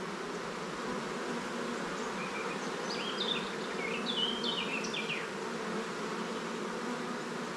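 A swarm of bees buzzes steadily at an open hive during a fast-growing colony inspection, a dense continuous drone with scattered higher whines from individual bees flying close by.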